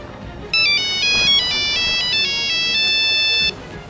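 A telephone rings with a bright electronic ringtone, a steady repeating tone pattern lasting about three seconds at close range, placed as a call to a student's parents; no one speaks.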